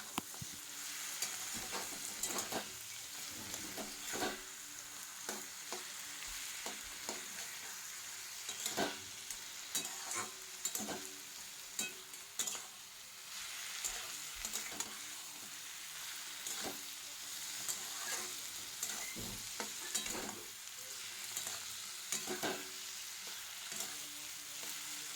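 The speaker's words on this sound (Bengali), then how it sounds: "এটাকে ভালো করে নাড়াচাড়া করে লাউয়ের তরকারিটা রান্না কমপ্লিট করে নেব" Bottle gourd curry with a fish head is stirred in a pan, a soft, low bubbling sizzle running throughout, broken by repeated light scrapes and taps of a spatula at an unhurried, irregular pace, with no talking.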